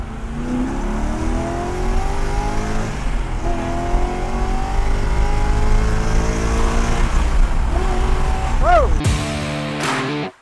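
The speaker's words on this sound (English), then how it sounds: "I have a great car here today, 1963 Corvette Split Window Coupe." A 1963 Chevrolet Corvette Split Window Coupe revs and climbs through its gears, the engine note rising steadily and loud before a sharp blip and a sudden cutoff near the end.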